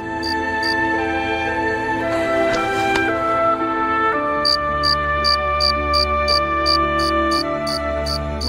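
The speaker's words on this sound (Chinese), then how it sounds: "有蛐蛐叫" A cricket chirps in regular, evenly spaced high pulses that grow steady in the second half, set against a sustained musical drone and low ambience.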